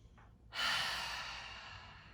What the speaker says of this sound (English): your whole being is saying, hey, I need some more of those deep breaths, let's do it